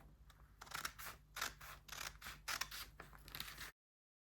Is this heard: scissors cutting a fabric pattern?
yes